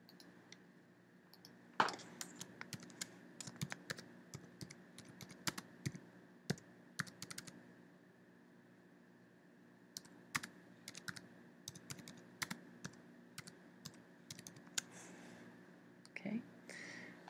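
Someone types on a computer keyboard in quiet, scattered bursts of light key clicks, close and soft, with a faint steady hum underneath.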